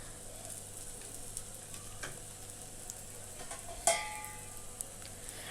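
A little oil added over a crispy street-style rava dosa sizzles faintly and steadily on the hot pan, broken once by a sharp metallic clink.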